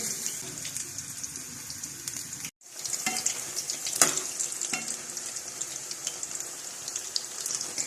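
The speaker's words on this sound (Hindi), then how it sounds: "हमारे पकोड़े माशाल्लाह से बहुत अच्छी तरह से फ्राई हो रहे हैं" Pakoras deep-frying in hot oil give a steady, dense sizzle throughout, broken by a brief silent gap near the start, with a few louder crackling spikes afterward.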